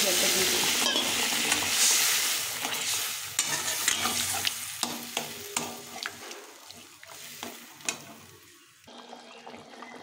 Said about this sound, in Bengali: তো মশলার সঙ্গে আলুটা ভাজা হয়ে গেছে, এখন আমি এই জল দিয়ে দেবো।